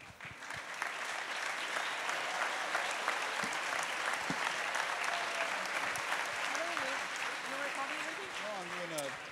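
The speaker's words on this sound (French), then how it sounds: "je voudrais que vous vous applaudissiez" Festival audience applauding, a broad steady wash of many hands clapping throughout, moderately distant, with a few voices calling out over it toward the end.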